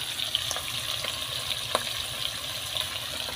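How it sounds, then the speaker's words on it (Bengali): Hilsa fish frying in a pan, a steady, close sizzle and crackle of hot oil with a few faint clinks, no voices. "তো মাছগুলো এখন আমি সুন্দর করে ভেজে নিচ্ছি।"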